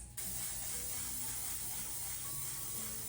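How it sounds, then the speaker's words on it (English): Charlotte Tilbury makeup setting spray misted in one continuous soft hiss lasting a few seconds, close and faint, without any talking. "Now we're gonna go in with the Charlotte Tilbury setting spray."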